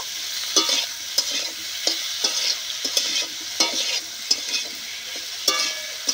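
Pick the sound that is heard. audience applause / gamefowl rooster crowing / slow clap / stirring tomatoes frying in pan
stirring tomatoes frying in pan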